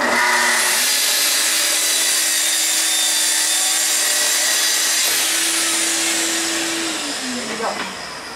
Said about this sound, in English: Now, you want to cut a little bit, say an inch off the board. Take your track saw,